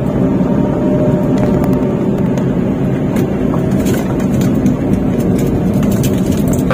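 A Toyota car's engine under throttle just after shifting into third gear while practising a turnaround on an uphill slope, a continuous loud low rumble that holds steady throughout with no speech.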